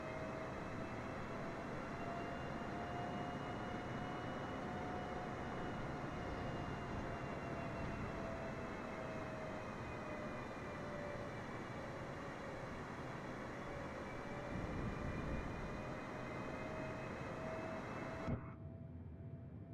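Simulated airliner on final approach in Microsoft Flight Simulator 2024, a steady cabin engine drone with a faint wavering whine, constant and moderately quiet before cutting off abruptly near the end.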